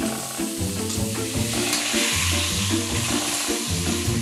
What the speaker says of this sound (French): Vous devez le faire frire dans un peu de bière.